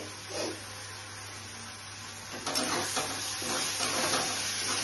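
Sesame paneer curry sauce with milk and tomato sauce being stirred in a pan, soft scraping and gentle sizzling with a steady low hum, the stirring growing busier partway through.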